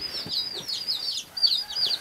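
Newly hatched black chicks, about a day old, peep in a rapid chorus of high, rising-and-falling chirps close by, overlapping continuously with no talking.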